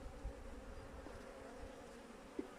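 A faint, even drone of honey bees rises from an opened hive, with a couple of soft knocks, alone and without talk.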